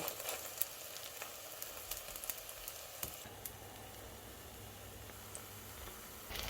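Over-ripe plantain pancakes (tatale) frying in a pan, a soft, even sizzle that carries on steadily, broken by faint clicks and scrapes of the utensil, with no voices.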